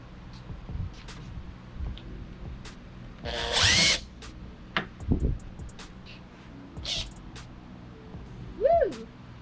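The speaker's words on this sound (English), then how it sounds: "So you just drill it out." A power drill whirs briefly but loudly while drilling out a rivet on the trim of a 1974 BMW, with scattered clicks and handling knocks around it in a quiet workshop.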